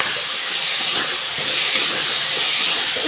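Potatoes hitting a hot pan of fried chillies, a loud, dense sizzling hiss that holds steady and close for the whole stretch.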